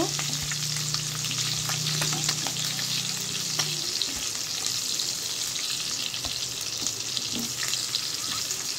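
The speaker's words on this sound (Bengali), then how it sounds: "ডিমটা আমার ভাজা ভাজা হয়ে গেছে।" Eggs fry in hot oil in a pan, giving a steady, close sizzle with faint crackles and a brief low hum early on.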